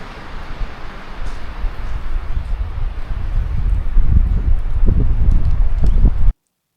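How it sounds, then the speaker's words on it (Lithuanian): Wind blows outdoors in a low, blustery roar against the microphone, building in strength with heavier gusts toward the end before cutting off abruptly. "O vėjas, norit paklausyti?"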